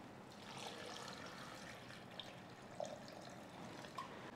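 Chilled water trickles into homemade sugarcane juice seasoned with black salt. A faint, steady pour with a few small splashy drips, quiet and close.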